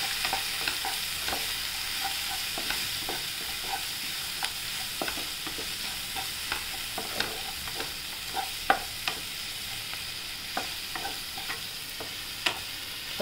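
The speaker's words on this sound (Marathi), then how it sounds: "हळद, लाल मिरची पावडर आणि धणे पावडर हे टाकूया आणि परतून घेऊया छान" Cluster beans with garlic sautéed with turmeric, red chilli and coriander powder, producing a steady sizzling hiss and regular spatula scrapes and taps against the pan, close and moderately loud, with no speech.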